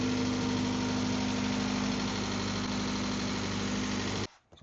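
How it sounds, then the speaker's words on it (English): A Japanese-market car engine idles steadily and loudly up close, a constant mid-pitched hum with a firm low throb, running evenly until it cuts off abruptly near the end. "when it runs at idle, it runs pretty well"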